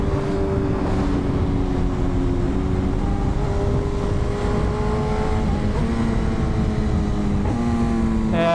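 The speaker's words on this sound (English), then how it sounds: "These pops never get old on the BMWs." A BMW S1000RR sport motorcycle engine runs loud and close on the road, its revs rising and falling through gear changes with a strong steady roar over wind noise.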